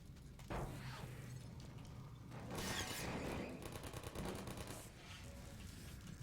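Automatic turret fire in Half-Life 2 comes as quick rattling bursts over a busy game soundscape, with a sharp impact early on and a louder stretch of rapid shots midway, moderately loud throughout.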